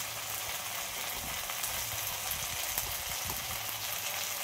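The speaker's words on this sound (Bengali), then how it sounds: "আর ঢাকা দিয়ে এইভাবে এঁচোড়টা ভালো করে কষিয়ে নেব।" Jackfruit for a prawn curry frying and being browned in a covered pan, giving a steady, close hiss of sizzling oil that runs without a break, with a few faint stirring knocks.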